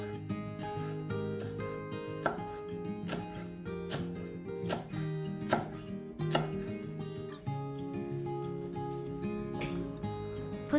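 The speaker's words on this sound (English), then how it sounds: "Chop the parsley." A knife chops parsley on a board in a series of sharp, close thuds at an uneven, unhurried pace, with a few louder strikes over a constant background music bed and no speech.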